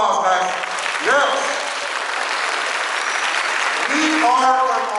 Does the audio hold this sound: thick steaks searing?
no